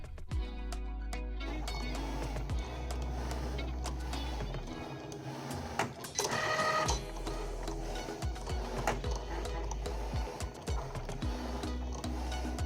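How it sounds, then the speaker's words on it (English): A Cricut cutting machine slicing material, giving a steady mechanical whir with rhythmic clicks and carriage movements, fairly close and continuous, with a brief louder burst midway and no talking. "We're cutting it out, and then I'm going to show you the cool Cricut heat press next."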